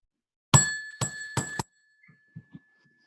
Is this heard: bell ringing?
yes